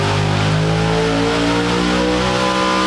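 A 1972 Monte Carlo drag radial car with SMX power roars at full rev on an engine dyno, a loud, sustained, harmonically rich engine note that holds steady for nearly three seconds before cutting off abruptly.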